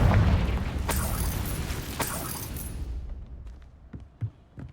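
Confringo fire spell blast in Hogwarts Legacy, a loud booming burst up front that fades into a rumbling tail, then dies down to quiet with a few small pops and knocks.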